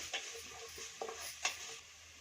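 Onion with crushed garlic and ginger frying in a pan for bakery-style veg puffs, a faint soft sizzle with a few sharp spoon scrapes and clinks against the pan, quiet and close.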